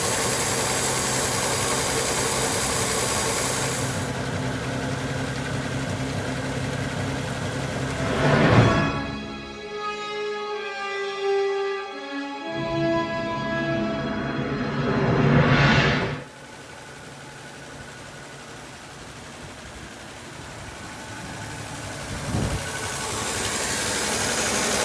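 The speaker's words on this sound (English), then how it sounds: "I could just turn the key and she'll run" An old Volvo 164 engine with suspected damage turns over and runs. A steady, humming drone with a tonal whine holds for about seven seconds between stretches of broad, hissing noise.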